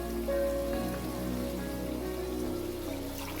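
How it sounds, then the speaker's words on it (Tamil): Hot water poured steadily from a vessel into a pot of chicken dum biryani with rice and about three-quarters of a kilo of chicken: a continuous close splashing, trickling stream for the whole stretch, with no talk over it. "இப்போ நான் வந்து 3/4 கிலோ சிக்கனுக்கு 1 லிட்டர் தண்ணி ஊற்ற போகிறேன்."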